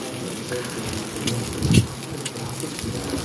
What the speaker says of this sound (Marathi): इथे अंडी उकडून घेतली आहेत, ती एक आपण फ्राय करूया तेलामध्ये